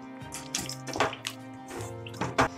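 Chicken cooking water poured from a pressure cooker into a pan for a country chicken curry, a short splashing trickle with a few drips over a steady tonal background hum.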